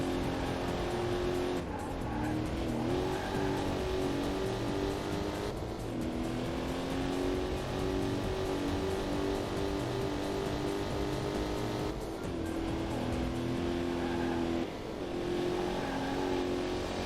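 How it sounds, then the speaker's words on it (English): A Corvette C3 in a PC arcade racing game accelerates in top gear with a continuous loud engine drone. The engine briefly dips and changes pitch at a few points, and tire squeals come and go. "Car is not that fast in accelerating in top gear,"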